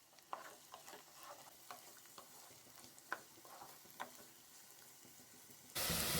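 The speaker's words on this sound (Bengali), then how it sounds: "ফ্রাই করে নিচ্ছি।" Green beans, potato and carrot fry in oil in a pan, with soft sizzling and scattered stirring clicks and scrapes throughout, ending in a sudden louder burst of hiss.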